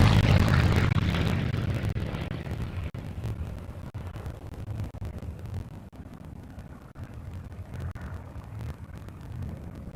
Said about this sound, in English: Followed tightly by our P-51 Mustang, who's hot on his tail.